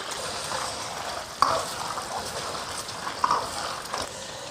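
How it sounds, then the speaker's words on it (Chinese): Century eggs frying in hot oil in a wok, a soft steady bubbling sizzle with a couple of sharper clinks or splashes, fairly quiet and without talk. "油温升至6成热下，皮蛋也过一下油"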